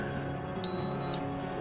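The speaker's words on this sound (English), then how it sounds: "Sorry for the beeping" A single steady high-pitched electronic beep from an RV's EQ auto level system in a 4x4 Class C RV, lasting about half a second, clear and close over a low interior hum.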